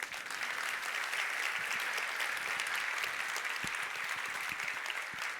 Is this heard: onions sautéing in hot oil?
no